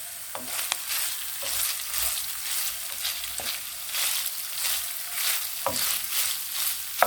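Egg and crumbled cheese curd mixture roasts in oil in a pan over low heat, a steady sizzle broken by periodic scrapes and taps as it is stirred.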